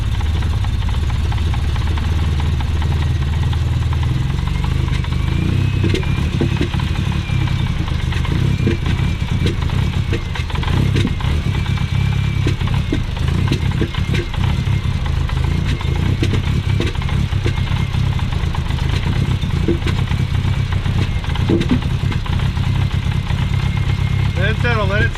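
A big-turbo car engine running at a steady, loud, rumbling idle throughout, with a slight clattering texture and people talking over it.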